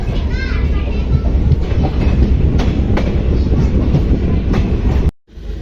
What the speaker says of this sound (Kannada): ಟ್ರೈನ್ ನೋಡ್ರಿ ಹನಗನಹಳ್ಳಿಗೆ ಬಂದೈತಿ ಈಗ.